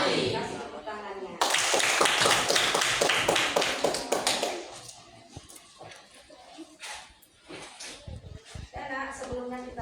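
Classroom students break into clapping on cue from an Indonesian civics teacher, a dense burst of many hands lasting about three seconds before thinning into scattered claps and shuffling, with the teacher's voice returning near the end.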